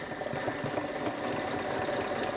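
A sewing machine runs steadily through fabric with a continuous quick mechanical whir and light rhythmic ticking, faint and close, with no voices.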